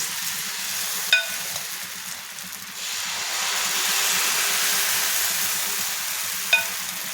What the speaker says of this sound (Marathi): आपण जे घावणसाठी पीठ भिजवलेलं आहे ते टाकून घावण तयार करून घ्यायचे आपल्याला